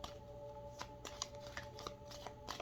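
Playing cards being shuffled close by, a quiet series of quick riffling bursts and soft flicks repeating in an even rhythm with no talk.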